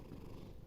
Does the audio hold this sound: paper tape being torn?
no